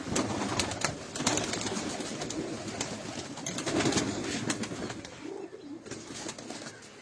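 Pigeons coo in a loft, a steady low burble of overlapping calls filling the whole stretch, close and moderately loud, with occasional wing flaps and no talking.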